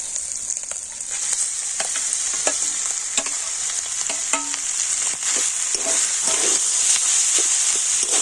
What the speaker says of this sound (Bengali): তো আদাটা ভেজে নেবার পরে এবার আমি দিয়ে দেব গ্রেট করে নিয়ে আলু